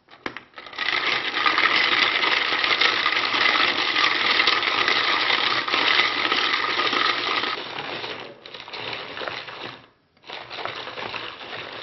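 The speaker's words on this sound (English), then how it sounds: "crushing some ice to be used in desserts, drinks" A Wonderchef Turbo dual-speed food processor crushing ice, a loud steady whirring rattle of ice chunks against the blades that runs continuously, then falters and cuts out briefly twice before resuming near the end.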